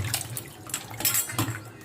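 Mangoes rinsed under running water at a sink, a close splashing trickle with small knocks of fruit and dishes, brief and with no voices.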